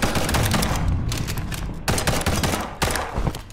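Rapid gunfire in the video game Liberated, a fast loud volley of shots in quick succession with brief pauses and renewed bursts, close and dominant.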